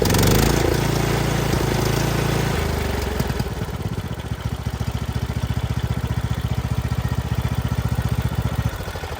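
A Craftsman T210 lawn tractor engine slows from a higher rev down to its lowest idle, settling into a loud, close, even chugging pulse that repeats steadily, with no talking.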